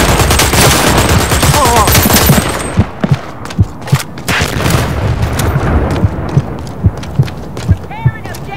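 Gunfire in the video game Dirty Bomb: sustained automatic fire at first, then single sharp shots spaced at fairly regular intervals, loud and close, with game sounds around them.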